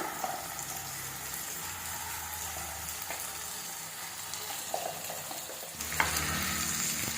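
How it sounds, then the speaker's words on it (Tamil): Soft steady sizzling of ground masala frying in oil for an eggplant curry, with occasional light clinks of stirring, quiet and continuous. "இந்த மசாலா நல்லா எண்ணெய் திரிஞ்சு வர அளவுக்கு வதங்கட்டும்"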